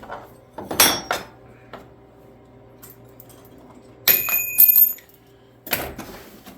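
A metal door hinge drops onto a workshop floor, giving a sharp clank followed later by a brighter, ringing metallic clatter and another bump, fairly close and with no talk.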